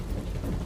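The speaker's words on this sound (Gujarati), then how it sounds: "ધોધમાર વરસાદ વરસ્યો" Heavy rain pours down in a steady, dense, broadband hiss during a brief downpour in rural Gujarat.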